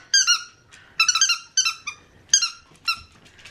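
A spiky ball dog toy squeaks five times in short, loud, separate bursts with brief pauses between them, close by and heard alone with no talking.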